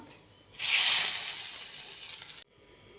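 Hot oil tempering of mustard seeds, cumin and curry leaves is poured into a ground chutney with no tomato, giving a sudden loud hiss that fades over about two seconds and then cuts off.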